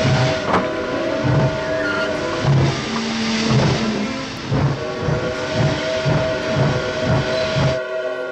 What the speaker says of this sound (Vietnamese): xe lửa sắp khởi hành rồi, đừng có đợi nữa